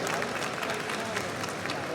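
Audience applause from a crowd at a Malayalam film event, dense sustained clapping filling the full moment at steady loudness with no pause.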